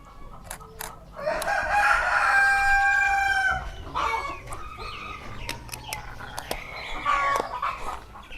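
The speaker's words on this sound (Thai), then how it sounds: "ไก่ไก่ ไก่ ไก่ ไก่ ไก่" A rooster crows loudly and close by, and chickens cluck around it at a durian orchard farm. People talk quietly, and small clicks and rustles sound in the background.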